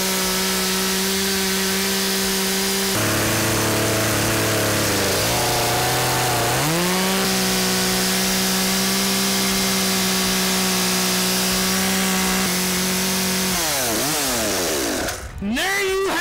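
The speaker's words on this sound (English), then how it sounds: "those guys are really skilled with the chainsaw" A chainsaw carving a pumpkin runs loud and steady, its engine pitch dropping and rising as it bites, then revving down near the end with a brief sputter.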